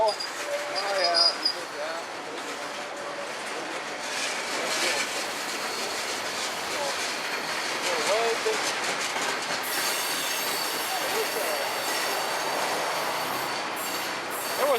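BNSF and Union Pacific freight trains roll past along Puget Sound, a steady rumble of wheels on rail with clacking joints and occasional squeals, continuous and fairly close, with people talking faintly over it.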